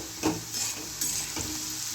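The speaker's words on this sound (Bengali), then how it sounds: "আলুটা হাফ ভাজা হয়ে গেছে" Potato pieces fry in oil in a pan for a Bengali-style potato and cauliflower dish, a soft steady sizzle broken by a few scraping stirs of a spatula, close and fairly quiet.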